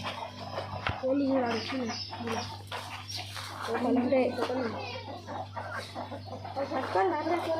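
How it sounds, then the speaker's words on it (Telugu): Native country hens clucking in short bursts around a farmyard, with a few fowl calls and children's voices mixed in over a steady low hum. "ఇలా కోళ్ళు ఉంటాయి"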